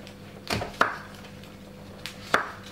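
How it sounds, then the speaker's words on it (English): A knife cutting a medium-sized tomato into small dice gives a few sharp separate chops against a board, close and clear, with quiet gaps between the strokes. "Cut up the tomato into some small"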